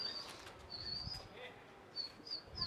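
Pigeons take off and fly, their wings flapping in soft bursts at a moderate distance, with faint chirps over a quiet background and no talking.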